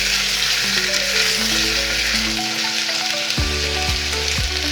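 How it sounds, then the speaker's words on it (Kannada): Field beans (avarekalu) frying in oil with browned onion for Karnataka-style sambar, a loud continuous hiss of frying close by, with steady tonal hum underneath. "ಈಗ ಅವರೆಕಾಳು ಎಣ್ಣೆಯಲ್ಲಿ ಚೆನ್ನಾಗಿ ಫ್ರೈ ಮಾಡೋಣ."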